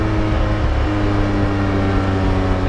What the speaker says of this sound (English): How you can make a 4-litre flat 6 engine sound this bad, I will never know.